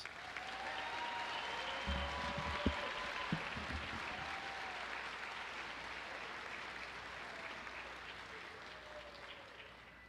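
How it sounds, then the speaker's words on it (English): Sustained applause from an audience cheering graduates at a 2021 high school graduation ceremony in a gym, steady and moderately loud throughout, with a few voices mixed in. "Let's give our graduates a round of applause"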